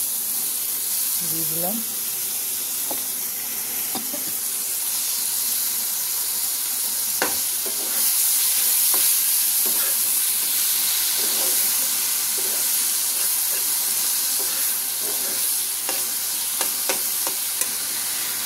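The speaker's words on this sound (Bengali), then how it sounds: "চিংড়ি মাছ বেশি ভাজবো না, তাহলে পরে শক্ত হয়ে যায়।" Prawns frying in a pan with ash gourd and pumpkin for a bottle gourd dish, a steady soft sizzle with occasional stirring clicks, with a voice speaking faintly over it at times.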